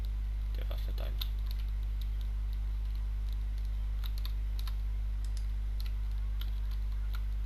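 Computer keyboard typing during a Minecraft skyblock session, sparse clicks and short bursts of keystrokes scattered over a steady low hum, fairly close and light.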